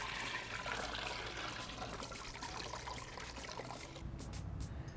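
Beer wort pours and trickles steadily from a lifted grain bag during homebrewing, a continuous close splashing drain that lasts throughout, with no voices.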